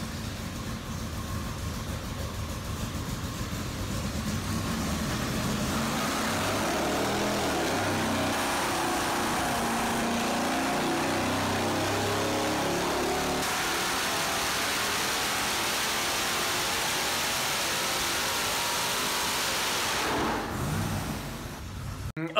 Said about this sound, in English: take a look at the supercharged run, listen to this thing, run in anger